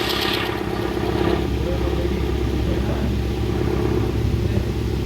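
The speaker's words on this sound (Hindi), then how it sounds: "गाड़ी का देखिए एकदम साउंड भी एकदम सॉलिड है" A Mahindra Scorpio diesel engine runs at a steady idle after a cylinder head repair, giving an even, continuous rumble heard close up with no talking.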